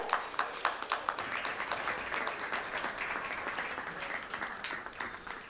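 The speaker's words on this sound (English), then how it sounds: "Let's have a huge round of applause, everyone, for Ms. Shilpi Jaiswal." Steady applause from a conference audience at a legal panel discussion in India, dense clapping sustained at an even level throughout with no talk over it.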